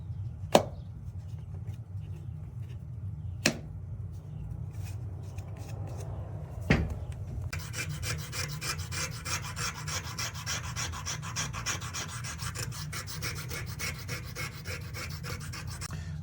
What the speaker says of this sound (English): I'm just going through here, cleaning up all the sealing surfaces.